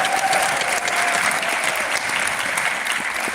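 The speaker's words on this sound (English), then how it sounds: "Can we give them a round of applause?" Steady, dense applause from a large audience at an award night honoring district leaders, a loud continuous wash of clapping that holds evenly throughout with no talk.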